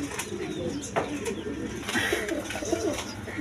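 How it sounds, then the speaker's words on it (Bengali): A pair of large red Danish-type Magpie pigeons coo in soft, repeated throaty rolls, close by, with light rustling and a bright chirp-like ambience around them. "একদম বিগ সাইজে, একদম বড় সাইজের কবুতর"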